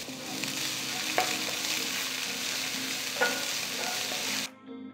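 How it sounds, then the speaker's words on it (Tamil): Steady, dense sizzling of finely chopped onion frying in hot oil with cumin, loud and close, with a couple of brief stirring clinks, cutting off abruptly near the end. "பொடிசாக நறுக்கின 1 வெங்காயம் சேருங்க."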